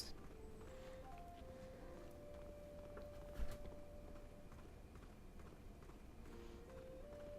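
Horse hooves clip-clop at a steady walking rhythm in the fantasy video game Fantasy Life, soft and continuous beneath game music, with one brief louder knock partway through.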